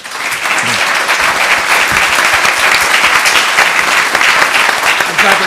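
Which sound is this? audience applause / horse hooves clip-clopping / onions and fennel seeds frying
audience applause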